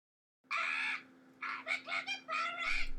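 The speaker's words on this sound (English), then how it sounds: "This is my pet parrot." A pet parrot squawks and chatters in three bursts, loud and close, with a steady electronic hum underneath and no talk.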